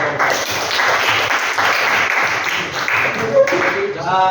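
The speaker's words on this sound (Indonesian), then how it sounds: "Tepuk tangan untuk kelompok 2." Steady crowd applause from a room of people, a dense wash of clapping that holds for several seconds, with some voices mixed in.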